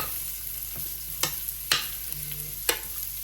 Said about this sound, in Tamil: இதுக்குள்ளே பிளம்ஸையும் போட்டு மிக்ஸ் பண்ணிடுவோம்